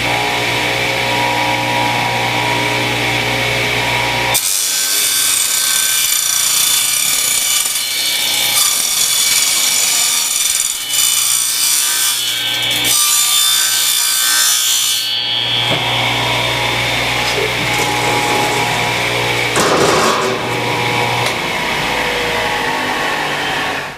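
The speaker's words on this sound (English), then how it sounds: "why in God's name am I cutting aluminum with a table saw?" A table saw slicing through aluminum stock for an RV solar rack air dam: a loud, continuous whining blade roar that rises sharply as the cut begins and holds steady for about twenty seconds, with no talking.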